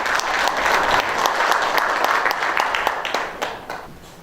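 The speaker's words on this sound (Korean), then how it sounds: "여러분 힘찬 박수 부탁드리겠습니다" Hearty audience applause at a discussion forum on local delivery riders' labour rights, a loud, dense burst of many hands clapping together that holds steady, then gradually thins and fades toward the end.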